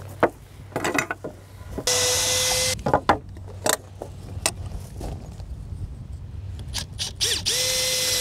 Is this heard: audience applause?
no